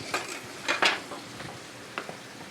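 Chili meat being mixed on a griddle for cheese chili dogs, with scraping and clinking of a metal utensil against the cooktop in a few brief bursts, then quieter stirring, no talk.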